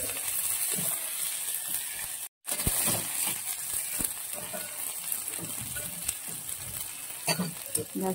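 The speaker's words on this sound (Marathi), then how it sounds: "यामध्ये मसाला जो आपण करून घेतलेला तो टाकायचा, छानसा परतून घ्यायचा।" Masala paste fries in oil in a pan for a cowpea curry, making a continuous close sizzle with occasional spoon scrapes and stirring clicks, broken by one brief silent gap.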